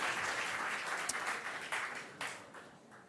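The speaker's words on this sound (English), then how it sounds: "round of applause" Audience applause closing a team's pitch at a pitch battle competition, steady clapping for about three seconds at moderate level, fading slightly toward the end.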